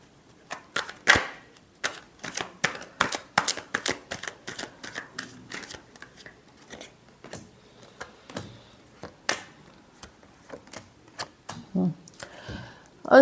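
Tarot cards being shuffled, a quick series of sharp riffling clicks and slaps in uneven bursts, fairly close and moderately loud, with no talking.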